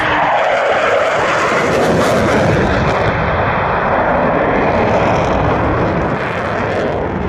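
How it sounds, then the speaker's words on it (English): A fast jet screaming past low at about 580 knots and 100 feet, a loud, continuous broadband roar that fills the whole stretch and eases slightly toward the end. "High speed pass now, 580 knots, 100 feet."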